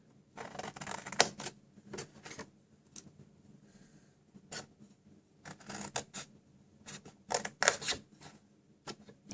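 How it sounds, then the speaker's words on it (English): Cardstock being trimmed and notched for a small box, heard as quiet, close snips and scratchy paper cuts in short irregular bursts separated by near-silent pauses. "These sides we're going to trim all the way up to the score line and notch."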